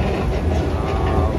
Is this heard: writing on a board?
no